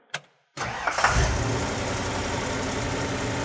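A car engine fitted with a Holley carburetor cranks briefly, falls quiet for a moment, then catches and settles into a steady, fairly loud idle held at high revs.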